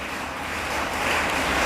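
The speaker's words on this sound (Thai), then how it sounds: "บรรยากาศแบบนี้เสียงฝนแบบนี้ครับ" Steady broadband hiss of rain, a dense even wash of noise with no distinct drops standing out, continuous and fairly close throughout.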